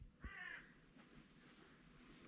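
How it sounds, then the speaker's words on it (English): A single harsh crow caw rings out near the start, followed by quiet ambient background and a faint thump at the end. "Listen to these birds."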